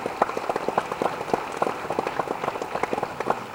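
Audience applause at a Tamil ceremony honouring Durga Stalin, a steady patter of many hands clapping at moderate distance with no talk over it.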